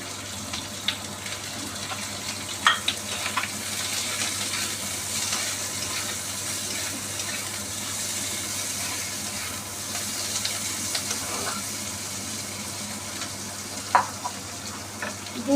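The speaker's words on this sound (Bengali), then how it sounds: "দিয়ে দিচ্ছি রসুন, দিয়ে দিচ্ছি পেঁয়াজটা" Garlic and onion frying in a pan with whole cumin, giving a steady, moderate sizzle broken by a few sharp pops and scrapes, with no talking.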